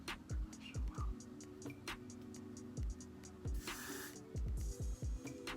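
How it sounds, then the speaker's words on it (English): A spray bottle being used during a braiding session for short type 4 hair, giving repeated short hissing spritzes in an uneven rhythm with some clicks, all close by. "Oh, now it's spraying."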